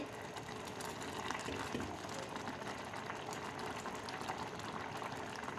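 Rice simmering in a pot for rice payasam, a continuous dense bubbling and boiling texture at moderate level, steady and close, with no talk over it.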